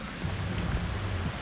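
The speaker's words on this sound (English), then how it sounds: "it's raining really hard" Steady, dense hiss of heavy rain falling continuously in Amsterdam, with a low rumbling undertone and no voices.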